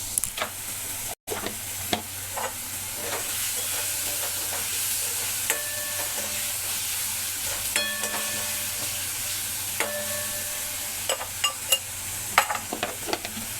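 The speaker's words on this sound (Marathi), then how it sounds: "टोमॅटो चांगला मिक्स करूया। टोमॅटो वितळण्यासाठी थोडंसं मीठ घालून घेऊ।" Chopped tomatoes with a little salt sizzle steadily in a pan for a drumstick curry, with intermittent scraping stirs and soft clinks from a spoon, close and moderately loud with no voices.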